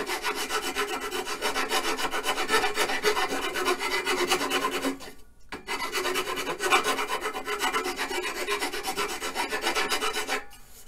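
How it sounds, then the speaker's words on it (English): A fairly coarse file rasps steadily over a wooden drumstick being shaped and smoothed, close and continuous, with one brief pause partway through before the strokes resume. "Now, take the fairly coarse file."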